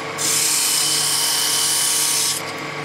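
A wood lathe whirs as a tool smooths rough tool marks on a spinning wooden letter opener, producing a continuous high hiss for a couple of seconds before stopping.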